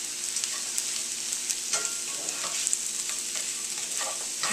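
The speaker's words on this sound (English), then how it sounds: "I'm going to add the pancetta back to the pan. Make sure that heats through with all of our potatoes and our veggies." Diced pancetta, potatoes and vegetables sizzle steadily in a hot pan, a continuous close frying hiss broken by scraping and stirring sounds, with no talking.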